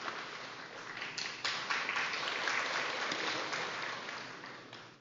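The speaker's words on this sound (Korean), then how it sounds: "큰 박수로 격려 부탁드립니다" A congregation at a church graduation ceremony for an evangelism training course gives a graduate sustained, dense applause from many hands, swelling after a second and then holding steady.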